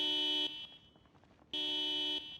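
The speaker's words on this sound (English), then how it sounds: "Okay, I'm not sure why the alarm's going off." In the video game Project Zomboid, a car alarm sounds two loud, steady electronic tones separated by about a second of quieter gap, with no voices.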